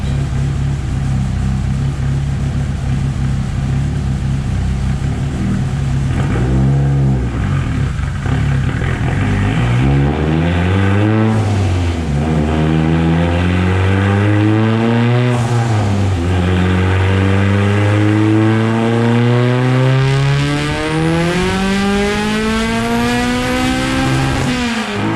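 Turbocharged Mitsubishi Evo 8 with a 4G64 engine on 93 octane at 24 psi, pulling hard through several gears on a full-throttle run; loud, close revs climb and drop at each shift, with no talk over it.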